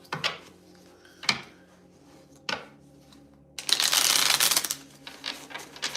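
Tarot cards being handled and shuffled, a few sharp taps followed by a dense riffling burst and softer shuffling, close and alone.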